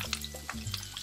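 Garlic sizzles in a hot pan while Hakka noodles are cooked, with steady close frying crackle and soft stirring scrapes. No one speaks.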